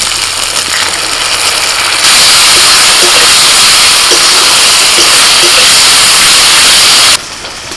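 Ginger-garlic paste, dried red chilli and cumin paste hit hot oil over fried onions, a loud, close, continuous sizzling hiss that jumps up sharply partway through and then drops back near the end.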